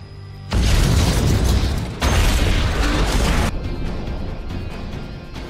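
An explosion near a submarine in a film: a loud, close, roaring blast erupts abruptly, surges again a moment later and then rumbles on at a lower level, with no speech.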